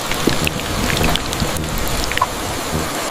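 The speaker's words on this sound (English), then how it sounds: "R is for rain, drops from the sky." Rain falls steadily in a dense, hissing patter, with scattered individual drops tapping nearby over a rough, continuous wash of sound and no voices.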